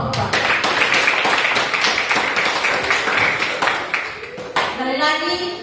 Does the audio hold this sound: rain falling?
no